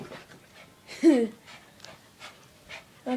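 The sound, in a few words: dog panting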